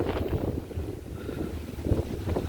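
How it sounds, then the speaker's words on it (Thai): Strong gusty wind blows before rain outdoors, a steady rough roar with buffeting on the microphone that rises and falls without letup. No one speaks. "ลมแรง้วยครับ"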